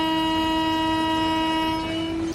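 A train in a railway simulator game sounds a long, steady horn blast with stacked tones over the low rumble of the moving train, the horn cutting off sharply near the end.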